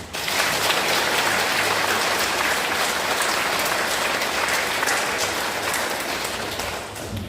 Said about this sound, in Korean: 나에게 봉사로 부르신 하나님께 정말 진심을 다해 박수 한번 드리죠